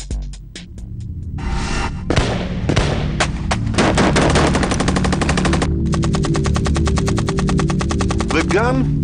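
Sustained automatic gunfire rattles in fast, dense bursts, loud and close, with heavy booming shots layered beneath and a nearly continuous roar through most of the stretch.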